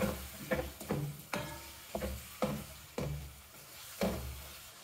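Chicken tossed in garlic ginger paste in a karahi pan, giving about eight repeated scraping strokes with a soft sizzle underneath, close and moderately loud, with no talking.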